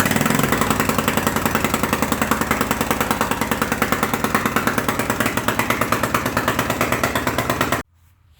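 A homemade mud mower with an old fire extinguisher for an exhaust stack starts up and runs, a loud, fast, rough chugging engine that pounds steadily and close, then cuts off abruptly near the end.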